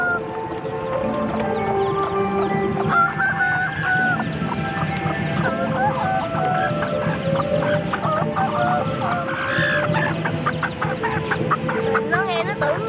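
A flock of chickens with chicks clucks and peeps continuously at a spring flower festival, high chirps layered over lower clucks, with crowd noise in the background.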